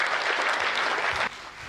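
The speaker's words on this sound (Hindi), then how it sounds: "थोड़ा तालियों का उत्सव कर दीजिए" Audience applause at a Hindi comedy and poetry stage show, a dense burst of clapping that stops suddenly near the end, leaving a faint room tail.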